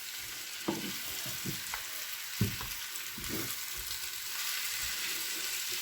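Mushrooms and eggplant frying in a pan with egg, a soft constant sizzle broken by several louder clacks and scrapes of stirring, close but low in level, no speech.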